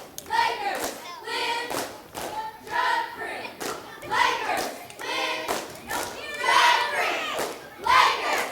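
A school crowd chants a rhythmic cheer along with Lake City Middle School cheerleaders in repeated loud shouted bursts, spaced about a second apart. Claps and thumps accompany the chant, sounding close and lively.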